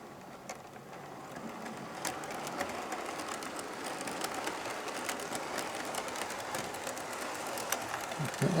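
A model Adams O2 tank locomotive runs slowly in reverse on a shunting move, a faint, steady mechanical whirr with soft clicks and rail ticks, no voices.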